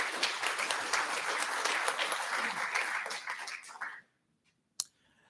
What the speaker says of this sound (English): A huge round of applause I would request to for our clients